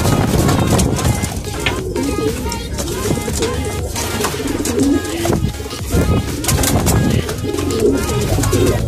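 Racing pigeons cooing and fluttering close by in a busy flock at a loft, with someone talking over them and steady background noise throughout.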